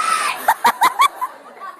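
An audience at a CPAC 2012 comedy set screams in a quick string of four or five sharp, loud bursts over a continuous crowd din.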